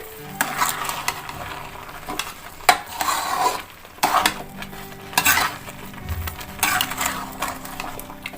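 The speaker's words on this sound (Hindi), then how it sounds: "फिर हम इसको चलाते रहेंगे और मॉइस्चर को अच्छे से सूखने देंगे" Grated carrot halwa with sugar being stirred in a pan, a spoon scraping and knocking against metal in repeated bursts over a soft sizzle, close up with no talking.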